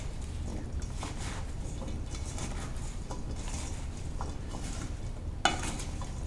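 Potatoes being stirred and tossed with seasoning in a bowl or pan, giving a soft, continuous rustling and scraping with a single sharper clink near the end, and no one talking.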